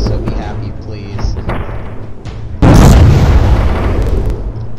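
A torpedo hit explosion in the Roblox Warships video game, a sudden loud boom that bursts out midway over ongoing game noise and rumbles on as it fades.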